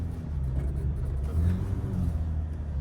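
A Ford Ranger Sport pickup drives across sand dunes, its engine a steady close rumble with a slight rise in revs partway through.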